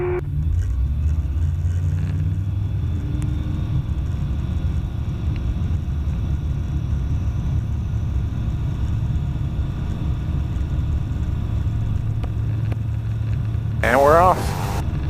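A light aircraft engine drones steadily in the cockpit during the takeoff roll of an introductory flight lesson, a loud low rumble throughout, with a brief radio squawk near the end.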